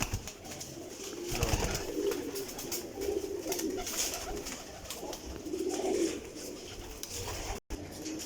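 Pigeons coo steadily through the whole stretch, close by and fairly loud, as a breeder handles and checks the pairs in a loft. There is no talk.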